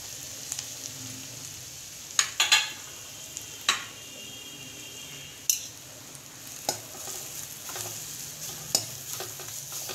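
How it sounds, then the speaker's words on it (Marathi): Masala spices sizzle in hot oil for a chicken curry, a steady close frying hiss with occasional sharp clinks and scrapes of a spoon stirring in the pan. "आता आपलं तेल तापलेलं आहे, त्याच्यात मी मसाला टाकून घेते"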